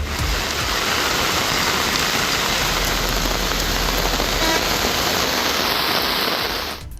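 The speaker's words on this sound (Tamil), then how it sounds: "கனமழை கொட்டி தீர்த்தது" Heavy rain pours down in a dense, unbroken roar, loud and close throughout, during a downpour over town streets in Nagapattinam, Tamil Nadu; no voices are present.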